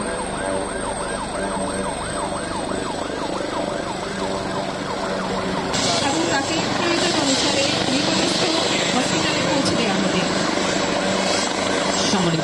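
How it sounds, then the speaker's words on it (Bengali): A medical helicopter's loud, steady rotor drone with an ambulance siren rising and falling over it, the engine roar growing fuller partway through. "অ্যাম্বুলেন্সটি আহত যাত্রীকে মেডিকেল হেলিকপ্টারে করে হসপিটালে পৌঁছে নিয়ে যাচ্ছে"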